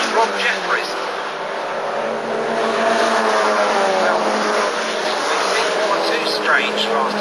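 Racing cars lapping Mallory Park circuit in wet conditions during a Nippon Challenge race, with a loud, continuous engine roar that swells and fades as cars pass, while a commentator talks over it.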